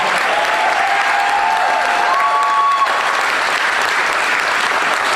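Loud, sustained applause from an audience at a professional wrestling event fills the whole span at a steady level, with a few faint tonal whistles riding briefly above the clapping.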